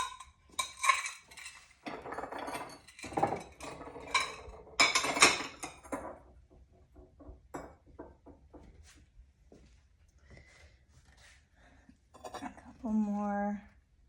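Glazed ceramic bowls clink and knock as they are lifted out of a pottery kiln, scattered light chinks under a person talking nearby.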